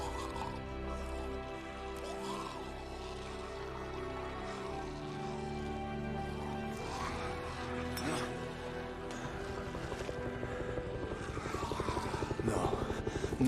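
A helicopter in a scene from The Walking Dead season 11 episode 24, a continuous rotor drone blended with dramatic score and scattered dialogue, steady and building toward the end.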